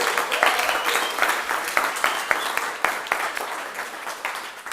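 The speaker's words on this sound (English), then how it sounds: "Applause for Dennis." A developer conference audience applauds a presenter, with close, distinct hand claps over a dense crowd of clapping that gradually fades over several seconds.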